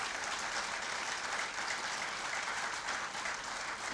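An audience at a school lecture-series event applauds continuously, a dense, even wash of many hands clapping at moderate distance with no voices over it.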